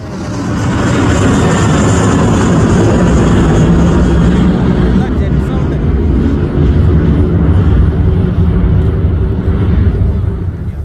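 A fixed-wing airplane takes off at Nedumbassery airport, its jet engines a loud, continuous roar that holds steady throughout.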